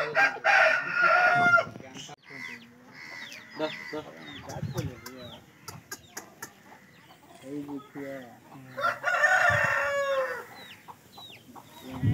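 Gopal breed chickens, with a rooster crowing in loud, drawn-out calls near the start and again near the end, and shorter clucks and bird calls in between.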